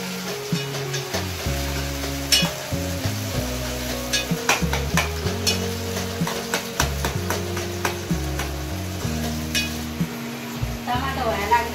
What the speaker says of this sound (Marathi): टमाटर टाकल्यावर आपला कांदा तयार झाला. आता याला फिरवायला लागले.